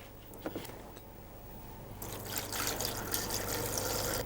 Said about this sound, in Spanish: le echaremos ahora un poco de agua